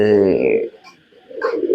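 A pigeon gives a brief, close coo with a voice speaking over it.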